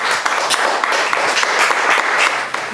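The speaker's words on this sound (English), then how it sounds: "Let's give our final three a round of applause" Loud, dense applause for the final three contestants at a Survivor finale, a continuous wash of many hands clapping at once with a few sharper claps standing out, close and sustained throughout.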